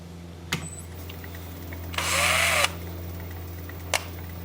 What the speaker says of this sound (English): I'm sanding, this is going this way and the drill is going against it